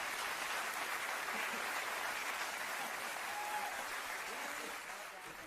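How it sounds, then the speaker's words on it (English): Studio audience applauding Noel Edmonds on Noel's House Party, a 1993 British TV show: a broad, continuous wash of crowd clapping holding steady throughout and fading slightly at the end. "Frank Carson there, consummate professional, directing everyone to applaud Edmonds."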